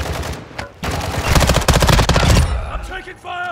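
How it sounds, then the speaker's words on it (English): Rapid automatic gunfire from a video game shooter, dense loud bursts of shots crackling for a few seconds, then tapering off into quieter in-game sounds. "I'm taking fire!"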